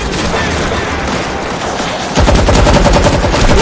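Rapid automatic gunfire from shooting zombies in World War Z Aftermath, a loud continuous barrage over dense game noise that thickens and grows louder partway through, with no speech.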